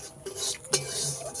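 Turmeric being fried and stirred in a pan, giving a quiet, steady scrape-and-sizzle with one sharper scrape of the utensil partway through.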